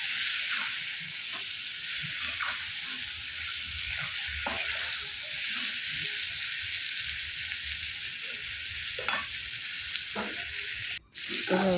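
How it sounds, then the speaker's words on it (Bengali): Pointed gourd (potol) slices fry in a covered pan with salt, giving a steady, loud sizzle and hiss throughout, with occasional soft clinks and a brief bump near the end. "পরিমাণ মতো নুন দিয়ে ভালো করে নাড়াচাড়া করে ঢাকা দিয়ে ভাজতে হবে।"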